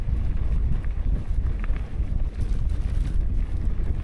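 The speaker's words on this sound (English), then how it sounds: "It's getting windy and chilly." Steady wind buffeting the microphone on a mountain bikepacking loop near sunset, a continuous low rumbling roar with gusty swells throughout and no voices.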